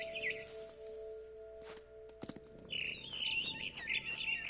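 Bird chirping in What Remains of Edith Finch, short bright tweets at the start, then a run of quick repeated chirps toward the end over faint ambient tones.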